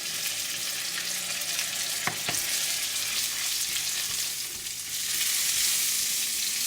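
Garlic chutney with dried chili powder and salt frying in a pan, a soft continuous sizzle with a couple of sharp utensil knocks and light stirring.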